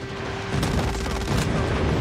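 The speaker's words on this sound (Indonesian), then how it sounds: "Friendly airstrike incoming." Airstrike explosions and heavy gunfire in Call of Duty Mobile, a dense, loud rumbling barrage of blasts and shots that keeps going through the whole stretch.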